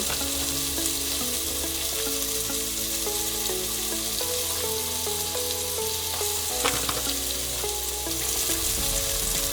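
Floured tofu pieces fry steadily in a pan for spicy sesame tofu, a continuous close sizzle with crackling pops and a few soft stirring scrapes, no talking.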